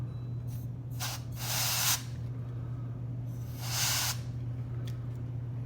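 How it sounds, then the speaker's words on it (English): Compressed air is forced through the print head nozzle of an Epson printer during a cleaning teardown, giving several short hissing bursts and two longer sprays over a steady low electrical hum. "That's pretty decent air blowing through there"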